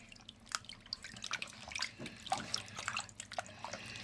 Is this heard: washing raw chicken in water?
yes